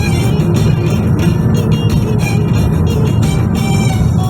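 An intercity bus bound for Bursa passes close by on the road, its loud engine roar and rushing tire noise steady and dense throughout, with no voices.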